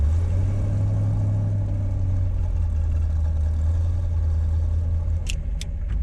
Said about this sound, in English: I love the sound of the transmission. The metal on metal there. It has the sound almost of a gated transmission.